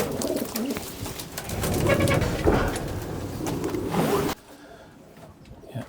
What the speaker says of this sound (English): She's another consistent pigeon